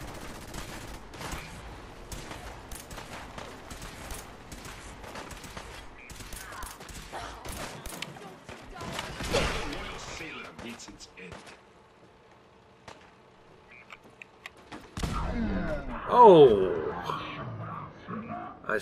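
Ship cannons fire in Fallout 4 as bursts of booming gunfire that come and go under quiet game ambience, with a louder blast near the end.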